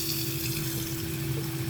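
Water runs steadily from a tap or is poured into a pot in a home kitchen while preparing custard, a continuous close hissing stream with a low hum and no talking.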